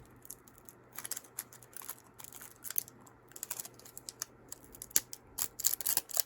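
A 1990 Donruss baseball card is cut in short, irregular bursts of crisp snips and scrapes, close and fairly quiet, with no talk.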